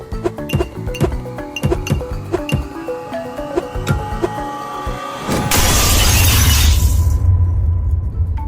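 An empty Jack Daniel's glass bottle is struck and shatters, with sharp clinks and taps building up before a loud, sustained burst of breaking glass and scattering shards, close and alone with no speech.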